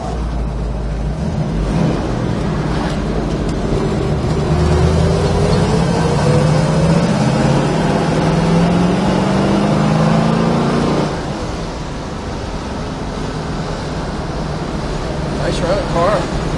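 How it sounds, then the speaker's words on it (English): A 1967 Chevrolet Chevelle SS V8 drives along the road, its loud steady engine note rising through a gear, easing off briefly, then pulling again. "Nice running car."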